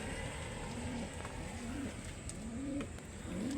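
Pigeons or doves coo softly and repeatedly in the background, a few low rolling calls spaced about a second apart over a faint steady hiss.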